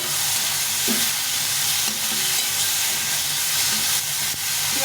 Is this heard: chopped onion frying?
yes